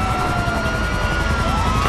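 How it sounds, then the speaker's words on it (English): A helicopter in Grand Theft Auto V drones loudly and close, its rotor chop pulsing steadily with a thin whining tone on top and nothing else competing. "Start shooting the helicopter."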